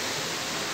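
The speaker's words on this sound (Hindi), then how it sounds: "पानी का झरना" Water of a waterfall at the DP World Pavilion at Dubai Expo pours down in a steady, dense broadband rush, close and loud, unbroken through the brief moment.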